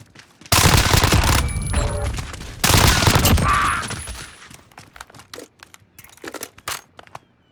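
Vector submachine gun in Call of Duty Modern Warfare firing two long, very fast full-auto bursts up close, each lasting over a second, followed by quieter scattered clicks and handling noises.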